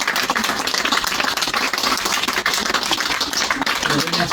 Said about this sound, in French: on peut vraiment applaudir Patrick et les deux comédiens